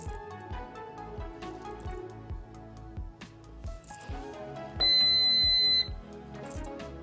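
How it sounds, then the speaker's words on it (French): A Proscenic T21 smart air fryer gives a single sustained electronic beep about a second long while pairing, clear and close over a quiet background of soft rhythmic ticking, with no talk. "On entend la friteuse biper, ce qui veut dire que le jumelage au chargement en cours."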